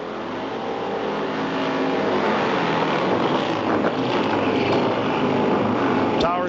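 A pair of Harley-Davidson Pro Gas drag bikes at Kil Kare Dragway in 1995 roar together in a loud, steady engine drone that swells slightly and holds under wind noise.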